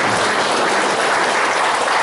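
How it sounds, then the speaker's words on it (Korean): Dense, steady clapping from an audience fills a political party press conference held in Gumi, continuous and loud throughout. "5공단 완판을 공략해 주신 우리 이철훈 차 후보님께 다시 한번 뜨거운 박수와"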